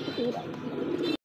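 A pigeon at a pigeon sale gives a short, close, soft throaty coo that lasts about a second.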